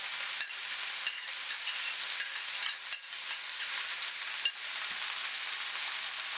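Beef fried rice with eggs stir-frying in a hot pan, a bright continuous sizzle broken by repeated spatula scrapes and taps, close up with no talking.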